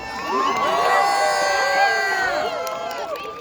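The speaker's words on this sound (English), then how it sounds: "Please give a round of applause for the 2019 homecoming court." A school crowd cheers and whoops for the 2019 homecoming court, with shouting voices and excited calls layered over the noise, loud and sustained before easing off slightly.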